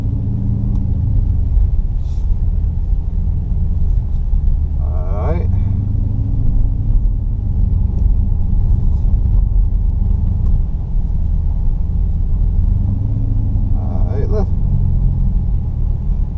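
A Dodge Charger Scat Pack cruising the streets, its engine a steady deep rumble heard from inside the car, with brief higher sounds passing over it a couple of times.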